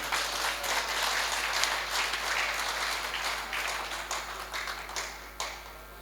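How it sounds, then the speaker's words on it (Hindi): An audience at a Hindi poetry gathering applauds, with many hands clapping in a steady patter and a few sharper individual claps near the end, under a faint low electrical hum. "एक बार तालियां बजाइए"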